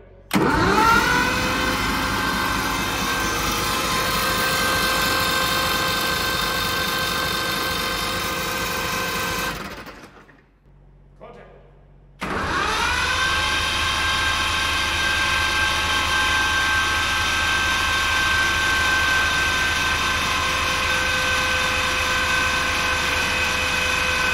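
Two-stroke Detroit Diesel engine that sat for over six years, cranking on the starter with a steady, loud, droning whir for about ten seconds, a brief pause, then another long crank without catching.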